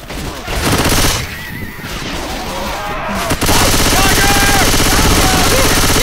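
Repeated shotgun blasts and gunfire in a zombie co-op shooter video game, loud and dense throughout, with game voices calling out over the shots.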